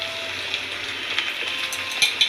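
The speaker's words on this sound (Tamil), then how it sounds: "சின்ன வெங்காயம் போட்டு ரெண்டு வத்தல் போட்டு வதக்கி விட்டுக்கலாம்" Shallots and a couple of dried red chillies sauté in hot oil in a pan for Karaikudi onion kalani mandi, giving a steady close hiss with a few soft stirring clicks near the end.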